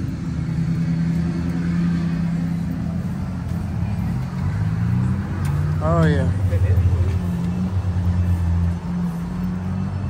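2006 Chevrolet Silverado truck with 52K original miles idling: a steady, loud, low engine rumble with a brief rev partway through. Someone talks over it.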